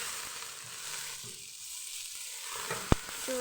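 Curry leaves frying in oil for Muscat Kabuli chicken, a soft continuous sizzle that dips briefly, then a single sharp click near the end, with no speech.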